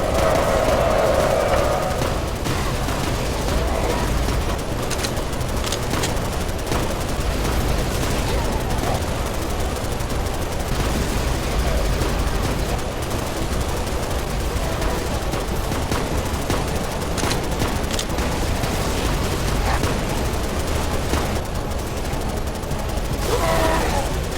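Sustained gunfire in the Halo Reach video game, a dense rattle of automatic weapons running without pause through a battle scene, loud and continuous with muffled shouts mixed in.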